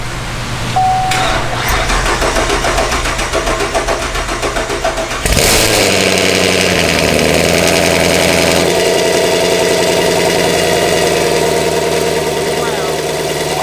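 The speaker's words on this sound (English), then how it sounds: "First time startup." A 2016 Camaro with an LT1 V8 and a stage 3 head and cam package, 2-inch headers and 3-inch exhaust, cranks and fires for the first time. It settles into a loud, lumpy, rumbling idle right up close, with voices briefly in the background.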